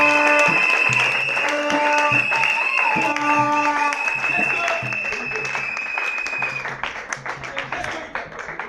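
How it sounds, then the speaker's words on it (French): A church congregation applauds continuously during a worship service, with music or singing ringing over the steady clapping throughout. "Acclamons le Seigneur Jésus"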